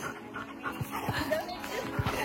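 A pet dog pants in quick rhythmic breaths close by, mixed with soft voices talking over it.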